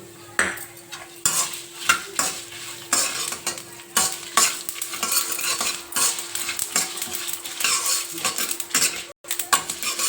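Ingredients roasting in a pan with sesame seeds, a spoon scraping and clattering against the metal in repeated irregular strokes over a low sizzle, close and distinct.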